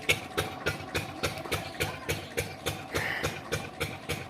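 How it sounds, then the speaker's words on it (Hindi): A farm engine driving a water pump chugs in a steady, even rhythm of repeated low thumps, close and moderately loud, with no one talking over it. "ये मशीन इंजन चल रहा है, पानी।"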